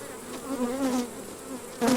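Honey bees buzz during a hive inspection: a close, wavering drone that swells and dips over about two seconds, with a louder pass near the end.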